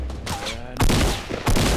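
Video game gunfire: two sharp bursts of rapid shots, the first near the middle and the second close to the end, loud against quieter game sounds.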